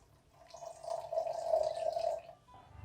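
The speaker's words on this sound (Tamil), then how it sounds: "இப்போது இதில் தண்ணி சேர்த்து நம்ம அரைச்சிக்கலாம்." Water is poured into ground rice in a grinder jar to make appam batter, a soft, steady trickle that swells and fades over about two seconds, faint and close.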